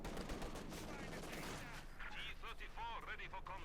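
Rapid machine gun bursts and scattered gunfire crackle through a Company of Heroes 2 battle, a dense barrage of shots heard under a commentator's steady talk.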